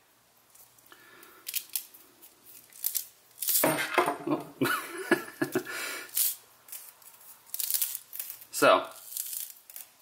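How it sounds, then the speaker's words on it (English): The drag on an Armor fly reel, an affordable model, clicks lightly as line is pulled off, with bursts of close, crisp ratcheting and rustling handling noise in two runs after a quiet start; a voice speaks briefly. "There's a light click to it when the drag is being pulled off"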